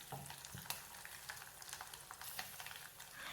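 Mustard seeds, urad dal and green and dried red chillies frying in hot oil for a tempering, with a faint, steady crackling sizzle and scattered pops, close by and with no voices.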